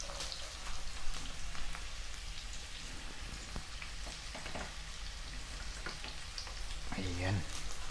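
Garlic sizzling in melted butter in a pan, a steady crackling fry with soft pops and light stirring throughout, close up.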